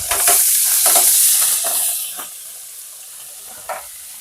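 Large frozen gambas prawns hit a hot frying pan with loud bursts of sizzling and stirring that crackle for about two seconds, then settle into a quieter hiss with one more brief flare near the end.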